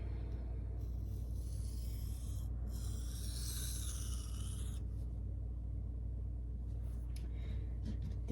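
A knife of CPM 1V steel is sharpened freehand on a stone, giving soft scraping strokes over a constant low rumble, with a few brighter rasping passes.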